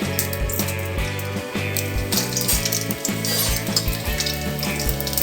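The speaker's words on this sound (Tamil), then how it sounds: "நம்ம வந்து கடுகு உளுந்த பருப்பு போட்டுடலாம் அது பொரியட்டும்" Mustard seeds and urad dal crackle and splutter in hot oil in a pan, a dense, loud sizzle with rapid popping that continues throughout, close up, with no talking.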